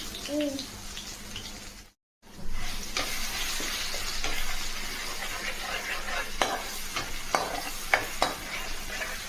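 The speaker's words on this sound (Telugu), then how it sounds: "ఆయిల్ హీట్ అయిన తర్వాత అల్లం వెల్లుల్లి పేస్ట్ వేసుకోవాలి" Ginger garlic paste sizzles in hot oil for a boti fry, a loud, steady crackle with sharp spits and pops and a brief drop to silence early on.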